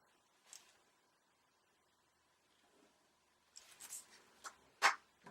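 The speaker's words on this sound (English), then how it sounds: "we're going to draw a line from the side seam to the bust point" Pencil drawing a line on a paper sewing pattern, soft faint scratching strokes, a brief one early and a cluster of quick louder strokes near the end amid quiet pauses.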